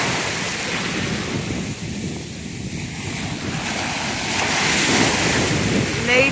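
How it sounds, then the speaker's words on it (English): Heavy ocean surf breaks at sunrise in a loud, continuous roar mixed with gusty wind buffeting the microphone, the wash swelling stronger toward the end, with no voices. "Listen to those waves, heavy waves."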